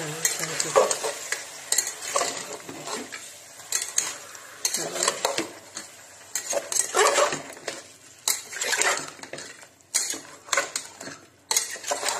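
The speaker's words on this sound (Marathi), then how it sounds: "परतून घेऊया" Washed mutton is stir-fried in a pan, with continuous sizzling broken by repeated scraping, clinking and knocking of a utensil against the metal in an irregular rhythm, close and fairly loud.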